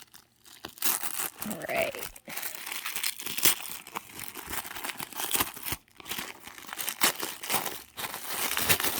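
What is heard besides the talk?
tissue paper crinkling while unwrapping a package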